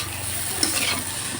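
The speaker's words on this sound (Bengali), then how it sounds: "চুলার পর আলু ভাজি আছে, আলু ভাজি হলে হয়ে যাবে ইনশাল্লাহ" Potatoes fry on a home stove, a steady soft sizzle with faint scraping and stirring sounds throughout, close by with no talking.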